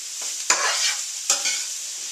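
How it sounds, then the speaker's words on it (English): Mixed vegetables sauté with curry powder and spices in a pan for soup, a close, steady sizzle broken by two sharp spoon-stirring scrapes. "I'm sauteing up my vegetables that are going to be added into the soup"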